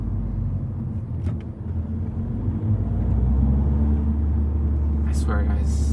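A manual VW Scirocco R-line diesel rumbles steadily while driving on a freeway, a low, even cabin drone that swells slightly partway through.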